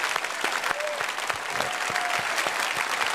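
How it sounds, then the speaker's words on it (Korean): A church congregation at a Sunday Christmas service claps in welcome, a dense, lively burst of many hands with a few brief voices mixed in underneath. "박수로. 환영합시다."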